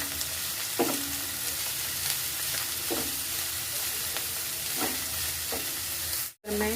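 Shredded cabbage stir-frying with onions in a hot pan for street-style noodle frankies: a loud, constant sizzle broken by spatula strokes roughly once a second, close up, with no voices.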